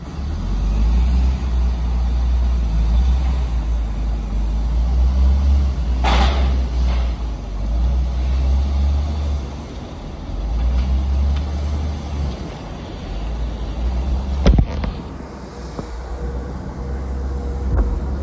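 At a trash dump, a loader pushes refuse with its bucket, its engine rumbling steadily and close, rising and easing, with a sharp metallic clank near the end.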